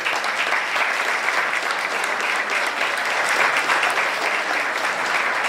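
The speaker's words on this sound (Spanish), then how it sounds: "Este aplauso revalida la asimilación de esta disertación sobre Luperón" An audience at a history lecture on Luperón applauds in a steady, loud burst of clapping that fills the room for over five seconds with no voices on top.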